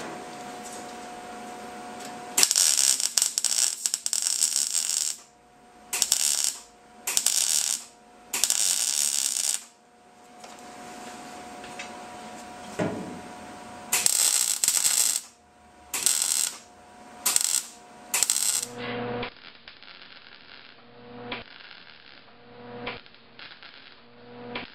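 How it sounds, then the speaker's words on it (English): A welder lays short bursts of welds between tacks on a car door pillar panel, each crackling, buzzing burst lasting a second or two, separated by pauses, close and fairly loud. "I've dialed the setting on the welder down one step, and I'm going to start welding in between the tacks"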